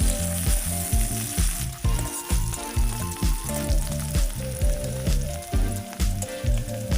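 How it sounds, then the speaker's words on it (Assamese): Chopped onions sizzle and crackle steadily in hot oil after bay leaves, browning for a mutton curry, with periodic stirring scrapes pulsing through the dense, close frying hiss. "পিঁয়াজখিনি ৰঙচুৱা হোৱালৈকে মই ভালদৰে ভাজি ল'ম।"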